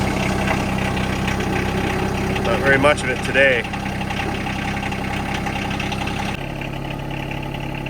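A Yanmar SA425 compact 25 hp diesel tractor idles with a steady low chugging rumble throughout, loud and close, while a person speaks briefly over it partway through.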